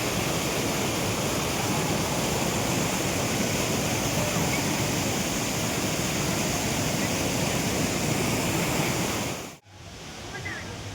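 Savdav waterfall roars in a dense, steady rush of falling water up close, loud and unbroken, cutting off abruptly near the end and giving way to a softer wash.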